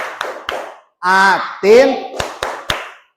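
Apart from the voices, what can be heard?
class doing a rhythmic 'tepuk atin' clapping game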